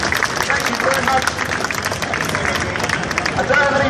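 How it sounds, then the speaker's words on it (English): A street-performance audience claps at an outdoor show, with dense, steady applause and cheering crowd noise close by throughout. "Give a big clap, guys."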